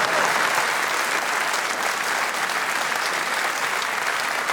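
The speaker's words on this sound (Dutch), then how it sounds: "Dames en heren, een applaus." Crowd clapping at the Dancing Peel en Maas dance show in Beringe after the judges announce a couple's scores, a thick, continuous burst of applause holding evenly throughout.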